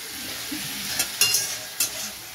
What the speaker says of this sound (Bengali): মশলাটাও দিয়ে দিয়েছি, কষিয়ে নিচ্ছি দেখো ভালো করে